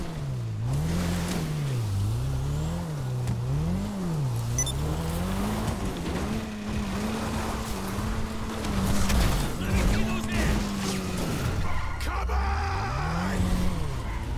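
A car in GTA 5 drifts through the streets of Los Santos, its engine revving and rising and falling in pitch while tires squeal and skid, loud and continuous throughout.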